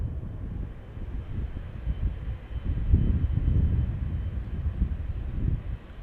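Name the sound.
KLM Boeing 777-300ER departing Amsterdam Schiphol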